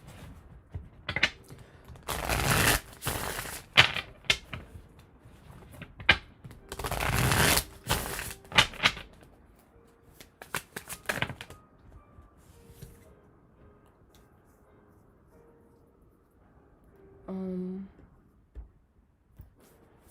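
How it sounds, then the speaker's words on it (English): Tarot cards being shuffled in bursts of riffling and rustling, close by, with pauses and a few small taps and clicks between. "I'm just going to start shuffling."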